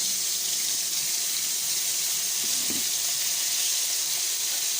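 Fish pieces dusted with flour fry in hot oil in a pan on a stove, giving a steady, bright sizzling hiss that runs evenly throughout. A faint low bump sounds near the middle.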